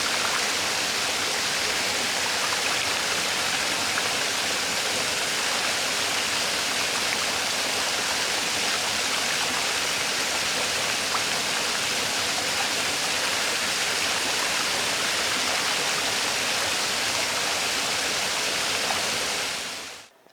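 Continuous broadband rush of lake water while someone bathes in cold water outdoors, steady and close for about twenty seconds with no talk, then cutting off abruptly.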